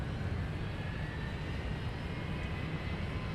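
A passenger jet touches down at Minneapolis–Saint Paul airport after a flight from Fort Myers, giving a steady, fairly faint broadband engine roar that holds evenly throughout with no voices.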